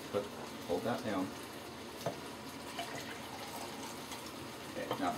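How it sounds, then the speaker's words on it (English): Water runs into a cooking pot to top up rice with leftover meat marinade, a splashy filling sound with faint sizzling, while people talk quietly over it. "now fill the rest with water"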